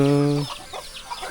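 Chickens in a remote hill village, a short rooster-like cluck or crow with a strong harmonic tone for under half a second, followed by quieter scattered clucks and rustling.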